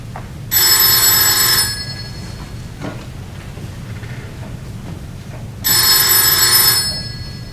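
A telephone rings in two long bursts with a pause between, the bright trilling bell loud and close over a low background rumble.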